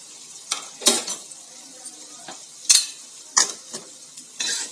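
Paneer bhurji tossed with fresh coriander leaves is stirred in a pan, a spatula scraping and clattering in several distinct bursts over a soft background sizzle, with no talking.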